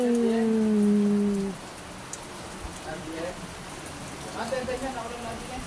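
Steady rain falls outdoors as a continuous hiss of drops on surfaces, with a low tonal hum fading early and voices talking faintly over the downpour.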